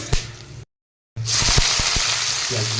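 Whole spices and dried red chillies sizzle and crackle in hot oil for a Bengali mutton curry, a steady loud frying hiss with scattered pops, briefly cut to silence before the sizzle resumes.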